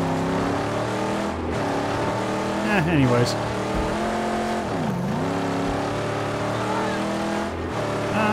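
A Mustang's engine drones and shifts pitch as it drives across rough ground in the video game Mad Max, the steady motor note rising and dipping a few times while someone speaks briefly over it.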